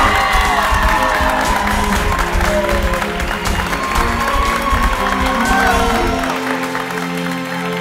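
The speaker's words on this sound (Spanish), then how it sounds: "Señoras, señores, aplausos para Ilse Díaz y Ángelo Roca." Studio audience on a Spanish-language television variety show applauds and cheers, with a dense, loud wash of clapping, whoops and crowd noise that runs throughout and eases near the end. Music and voices sound underneath.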